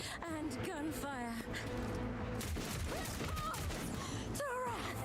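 Gunfire and smoke in a battle scene of the video game Warhammer 40k: Rogue Trader, a rattling fusillade mixed under game music and narrated voice lines throughout.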